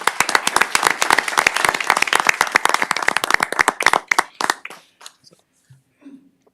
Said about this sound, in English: join me in a big round of applause for all the staff involved in those events